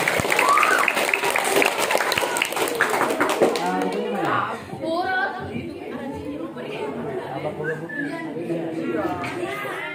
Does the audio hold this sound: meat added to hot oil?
no